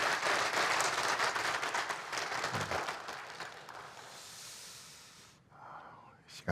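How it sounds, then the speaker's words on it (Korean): A church congregation at a Sunday worship service applauds to welcome visitors, a soft, moderately distant wash of clapping that tapers off after several seconds into near quiet. "우리 박수로 우리 환영해 주시겠습니다."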